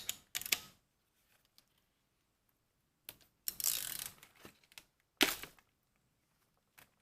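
A socket ratchet works over the intake to loosen the oil pressure sensor on a 2008 Saab 9-7x 5.3 V8, giving a few short bursts of close ratcheting clicks separated by quiet pauses.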